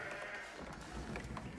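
Sheep bleat faintly in an Age of Empires 4 match, a few soft bleats mixed into steady game ambience.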